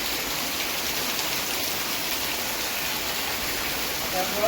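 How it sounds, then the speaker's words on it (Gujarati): Dense, steady heavy rain hissing continuously across the whole stretch, with no letup and no voices. "ધોધમાર વરસાદ"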